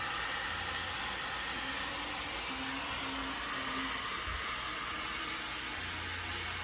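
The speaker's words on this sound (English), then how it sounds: "I'm gonna do mostly hover diffusing" A hair dryer fitted with a diffuser runs steadily while drying curly hair in a salon, giving a continuous, fairly loud broadband whoosh with faint low hum and no talking.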